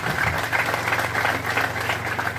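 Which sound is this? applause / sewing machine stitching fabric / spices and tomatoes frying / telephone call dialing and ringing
applause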